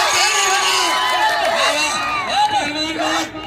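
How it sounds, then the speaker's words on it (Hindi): A festival crowd at a Malakhro wrestling bout, an Eid show in Rahim Yar Khan, roars and cheers loudly and continuously for the wrestlers, with whoops and shouting voices rising over a dense wash of noise. "ताली मारो जोरदार ताली"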